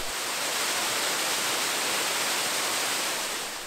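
Cascade de Glandieu waterfall in the Ain, France, a steady broadband roar of falling water heard up close, constant and even throughout, with no voices.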